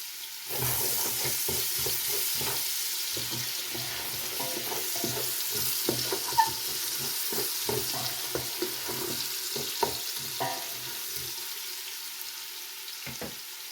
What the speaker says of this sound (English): So my carrots are still simmering here, so I'm going to add my garlic into the pot